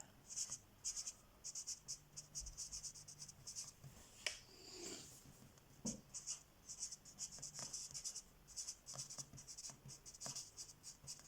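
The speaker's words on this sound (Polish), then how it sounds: "Piszę teraz brzydko" Writing by hand during a lecture on Poland's geology, heard as quick scratchy strokes in irregular bursts across the whole stretch, fairly close, with occasional taps and a low background hum and no talk.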